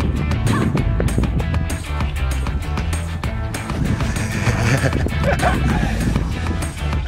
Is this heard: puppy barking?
yes